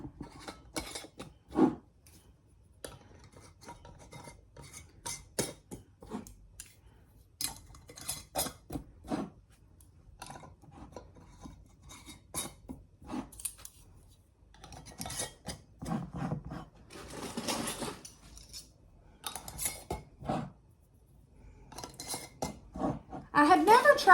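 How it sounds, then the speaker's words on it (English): Metal canning rings being screwed onto glass jars, producing repeated scraping, clinking and rasping twists in short bursts, close up, with a louder clatter at the end. "I'm going to be putting some rings on my jars"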